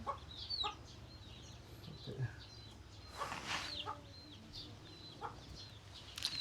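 Chickens raised at a rural home cluck in scattered, faint calls over a low outdoor hum, with murmured human voices now and then.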